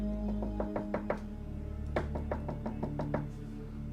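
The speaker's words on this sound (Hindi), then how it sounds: "इनके घर के पीछे वाले आंगन का दरवाजा कोई खटखटाता है।" Knocking on a back courtyard door as a horror story sound effect: several rapid bursts of sharp knocks, repeated in quick clusters over a low hum.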